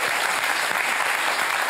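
Studio audience applause welcoming cycling champion Annemiek van Vleuten on a talk show, a dense, steady wash of clapping that is loud and continuous throughout.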